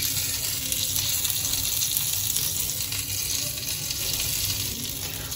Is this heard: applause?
no